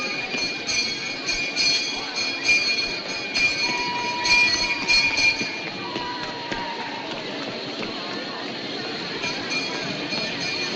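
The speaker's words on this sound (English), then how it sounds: "the train is leaving" A train pulls away from a station platform, a continuous rumbling roll with faint squealing wheels and a brief horn-like tone, steady and fairly near.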